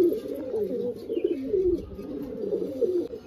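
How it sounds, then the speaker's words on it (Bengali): Pigeons coo in a clean loft where breeding pairs and single birds are kept, a steady overlapping low cooing from several birds at close range with no talking. "এখানে সিঙ্গেল করে রাখে পায়রাগুলো।"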